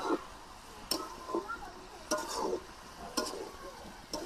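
Flat beans coated with salt and turmeric are stir-fried in oil in a pan without water, giving soft sizzling broken by sharp utensil scrapes and clinks at roughly one-second intervals, close up and without speech.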